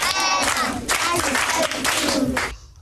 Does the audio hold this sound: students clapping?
yes